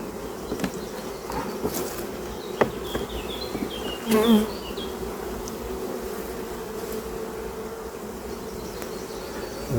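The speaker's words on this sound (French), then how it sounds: "Il y a moins d'abeilles là." A dense, steady hum of many honeybees buzzing close by at an opened hive, with an occasional single bee droning louder past the ear.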